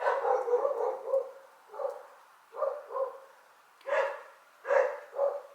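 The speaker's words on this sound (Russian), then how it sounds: "Ну, животные реагируют, собаки лают." Dogs barking in a city neighbourhood during an air-raid alert, a series of short hoarse barks in uneven bursts with gaps between, moderately distant and alone without talk.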